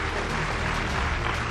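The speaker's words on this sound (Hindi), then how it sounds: "दोनों के लिए जोरदार तालियां" Dense crowd applause from an audience at a motivational talk, a continuous roar of many hands clapping at even loudness, brief and with no voices over it.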